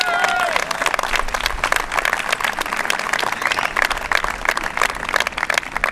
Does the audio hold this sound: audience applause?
yes